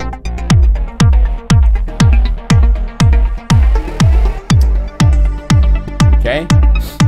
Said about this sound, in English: And I just added a kick drum.